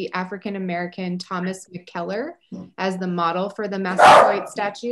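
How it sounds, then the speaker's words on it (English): A dog barks once or twice in the background while someone talks steadily. "That's my dog, sorry."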